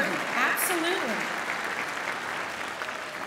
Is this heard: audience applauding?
yes